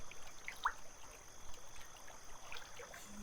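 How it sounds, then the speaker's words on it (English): Fresh spring water trickles softly in a quiet outdoor setting, a faint steady dribble with a few small bright drips, close and gentle with no voices. "There's nothing better than fresh, clean spring water."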